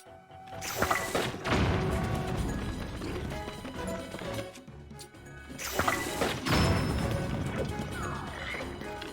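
Two loud, crashing bomb blasts go off in Zelda: Tears of the Kingdom, several seconds apart, each a sudden burst that trails into clattering debris and rumble.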